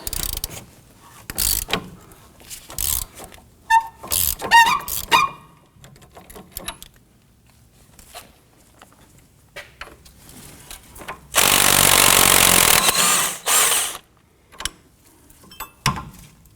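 Wrench and ratchet loosening a sway bar link nut on a 2015-2024 Nissan Murano: scattered close clicks and metallic clanks, then a loud sustained grinding burst of a few seconds, followed by more sparse clicks.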